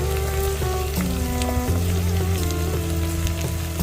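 Loud, continuous sizzling and crackling of curry leaves frying in hot oil for sambar, close up, with a steady background hum and no talking.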